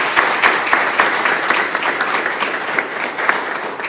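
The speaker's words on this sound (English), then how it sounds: "That deserves a round of applause" A gathered audience at a New York City public schools event bursts into applause, a lively, dense patter of many hands with some louder individual claps, fairly close and steady throughout.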